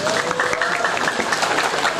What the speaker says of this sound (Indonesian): Enggak ada yang tepuk tangan?